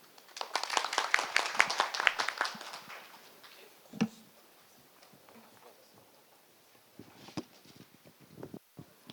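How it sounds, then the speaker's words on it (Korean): Audience applause at the close of a symposium discussion on startups and growth, a burst of clapping in the first few seconds that quickly thins out, followed by scattered claps and room noise. "다시 한번 토론장 분들께 큰 박수 부탁드립니다"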